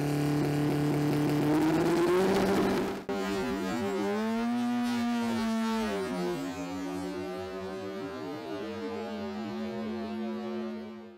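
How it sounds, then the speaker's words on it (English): A four-cylinder turbo dragster roars down the strip at Orlando Speedworld, its engine a loud, sustained drone with shifting pitch, followed by a sharp break and a continued rumble that slowly fades with no talk. "Had a four-cylinder turbo dragster rail grenade his engine"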